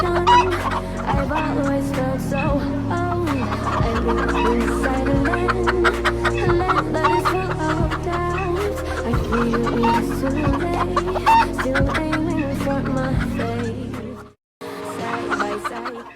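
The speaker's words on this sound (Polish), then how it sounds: "Mam nadzieję, że kury Wam nie przeszkadzały, bo były bardzo długo z nami." Hens cluck close by in a busy, continuous stream of short calls over steady background sound, with a brief silence near the end before the clucking resumes.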